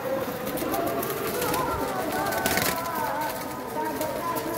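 Hobby pigeons kept in a loft coo repeatedly at close range, soft throaty calls over a busy background where people talk.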